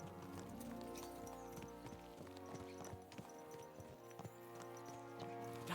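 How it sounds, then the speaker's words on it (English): Horses galloping in the medieval video game Kingdom Come Deliverance 2, their hooves drumming in a quick, continuous clip-clop rhythm at close range, backed by dense game music and with no talking. "Let's really spur these horses on, eh?"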